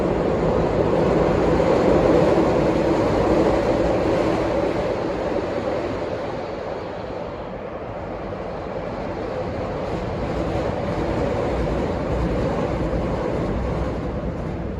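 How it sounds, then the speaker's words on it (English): A train rumbles past a nearby home as a steady, loud, broad roar that holds for the whole stretch, dipping slightly midway before swelling again, with no talking. "I live by the train, so gotta take some pauses every now and then when they pass."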